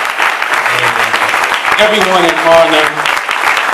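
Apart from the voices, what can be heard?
audience applause for Brother Ali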